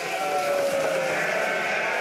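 A merino ewe bleats loudly and close by in one long, wavering call that fills the moment, with no talk over it.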